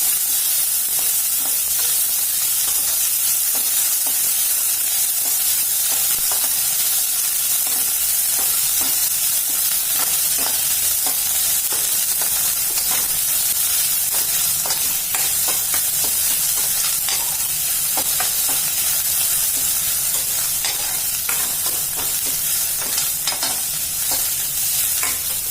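Onions fry in a pan for a radish gravy, giving a constant loud sizzle and hiss with occasional stirring scrapes. It stays steady throughout, with no voices.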